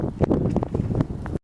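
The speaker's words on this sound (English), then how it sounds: "I apologize for the wind." Low, blustery rumble of wind buffeting the microphone, steady and loud for over a second before cutting off abruptly.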